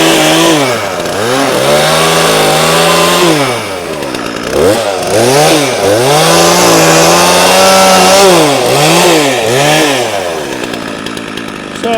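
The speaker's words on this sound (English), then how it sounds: "we're gonna get this chainsaw fired up" A chainsaw runs loud and close, its engine revving up and dropping back repeatedly in uneven bursts as it limbs a fallen, wind-blown tree in Alaska, with no talking.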